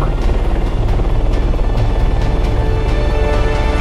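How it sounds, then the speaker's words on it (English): An enemy helicopter in a military video game drones loudly and steadily, its rotor chopping in a fast, regular pulse close by, with occasional voices faintly underneath. "that is definitely the enemy chopper."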